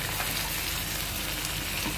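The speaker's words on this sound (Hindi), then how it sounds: "हमने डाल दिया इसमें प्याज और प्याज को गोल्डन ब्राउन होने तक भूनेंगे" Onions and tomatoes frying steadily in a pan, a dense continuous sizzle with no talk, even and close throughout.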